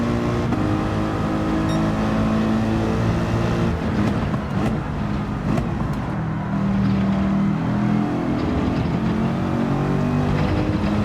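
A race car in Gran Turismo 7 drives hard around a circuit, its engine droning loud and steady throughout with pitch shifts under acceleration, and no talk.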